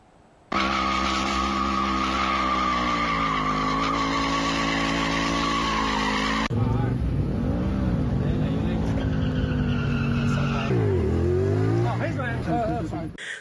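Motorcycles doing stunt riding at a city intersection in Chengdu: a loud, sustained engine drone with rising and falling revs and tire squeal runs throughout, and a voice talks over the later part.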